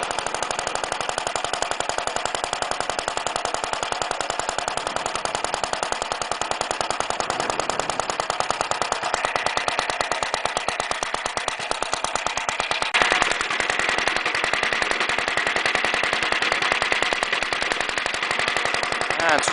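An old Villiers Mk20 small engine, never rebuilt, with its governor not properly connected, runs at a hand-held idle with a steady, rapid popping putter that continues evenly for about twenty seconds, close and fairly loud.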